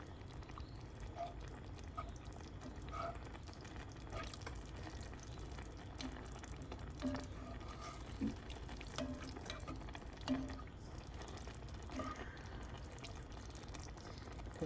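A Bolognese sauce with white wine and chicken broth simmers in a pan, giving a faint, steady bubbling and soft crackle with scattered small pops and no talking.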